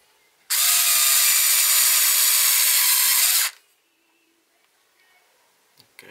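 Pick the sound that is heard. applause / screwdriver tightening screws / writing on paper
screwdriver tightening screws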